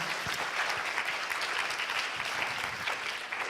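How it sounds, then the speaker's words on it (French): A conference audience claps steadily at a business competition event, a dense, even wash of applause heard from within the hall, with no voices over it. "Je crois que vous pouvez les applaudir."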